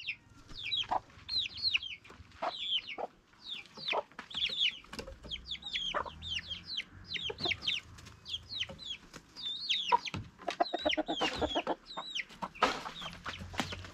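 A hen and her chicks in a village yard give a steady run of soft clucks and high chick peeps, close by and fairly quiet, with no one talking.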